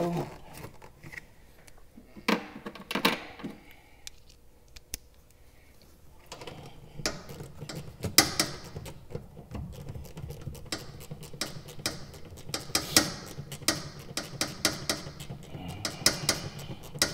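Bolt being snugged down during a Toyota 1FZ-FE turbo kit install, heard as scattered soft ratchet clicks and metallic ticks that grow busier in the second half, close and fairly quiet.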